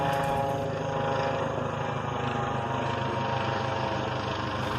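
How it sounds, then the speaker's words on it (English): A helicopter passes overhead in the evening, a steady distant rotor drone with a continuous engine hum and no other prominent sounds. "During the wait, I did catch this helicopter flying over."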